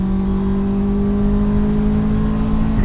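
A modified Subaru Forester STI engine drones loudly and steadily at high revs near 8,000 RPM, a sustained close-up roar with a slowly rising pitch and no pauses.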